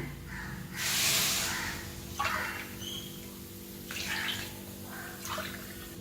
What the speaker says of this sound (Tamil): இப்போ இதில் ஆறு டம்ளர் தண்ணி விட்டுருக்கேன்